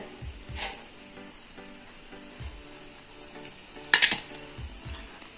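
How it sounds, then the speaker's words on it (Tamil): Soft sizzling of eggplant frying in oil runs throughout, with a few low knocks and a sharp metallic clatter of utensils against the pan. "கத்திரிக்காய் நல்லா பொரிஞ்சிருச்சுங்க"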